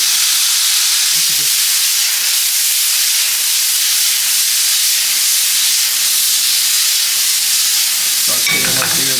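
Garlic in very hot oil with lemon juice hisses and sizzles loudly and continuously in a pan, a broad, steady frying roar with a brief clatter near the end and no talking.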